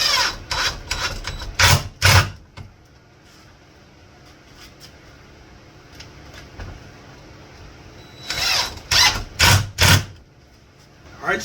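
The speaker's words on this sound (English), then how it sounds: "So now I'm going to install this using both of these screws, and I'm going to use just a 1 inch long sheetrock screw." A drill drives two 1-inch sheetrock screws to mount a cord hanger, heard as two clusters of short, loud whirring bursts separated by a quiet pause.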